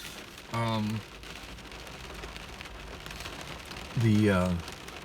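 Steady rain pours throughout on a very rainy drive to work, a dense continuous hiss, with two short bursts of a harmonic voice rising above it.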